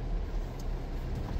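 A car creeps slowly through heavy, crowded traffic on a rainy Sunday, a steady low engine rumble and road noise from inside the vehicle, with no talking.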